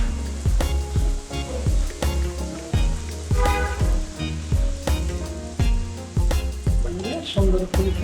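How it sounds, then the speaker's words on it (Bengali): Luchi, a puffed Bengali flatbread, deep-frying in hot oil in a home kitchen, giving a steady, dense sizzle that carries on without break and is heard up close. "সব লুচি ভেজে নিচ্ছি।"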